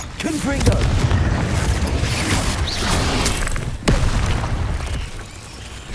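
Confringo blasting spell explosions from the video game Hogwarts Legacy, loud booming bursts over constant rumbling game noise, with one sharp blast near the end.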